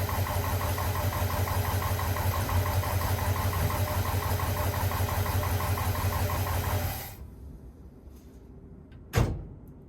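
The rough, knocking engine of a 1972 International Harvester 1210 pickup runs steadily at close range, then shuts off and falls quiet, followed by a single sharp clunk.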